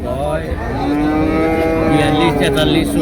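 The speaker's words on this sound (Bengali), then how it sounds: "আমার সামনে একটা বকনা গরু রয়েছে" A heifer lets out a long, loud, drawn-out moo close by at a cattle market in Tangail, Bangladesh, rising and holding steady for several seconds.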